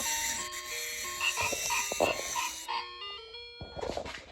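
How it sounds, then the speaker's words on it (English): Toy farm animal sound of a frog croaking, an electronic tune of tones with croaks and a later burst, played near alongside a person talking. "And he go again and he see a frog."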